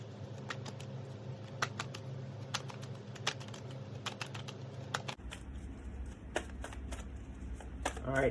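Tarot cards shuffled for a reading, a run of quick crisp riffling bursts repeating in a loose rhythm, close and fairly quiet, with a change in background tone partway through.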